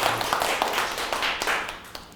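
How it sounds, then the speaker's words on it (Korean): Audience clapping at a lecture on the fourth industrial revolution: a short burst of dense, even applause that fills the room without pause, then ends abruptly. "박수 한번 더 쳐보겠습니다."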